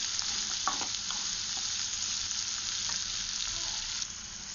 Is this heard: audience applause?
no